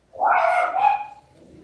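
A single drawn-out dog whine or yowl, rising and falling over about a second, close and moderately loud in a quiet room with no talk.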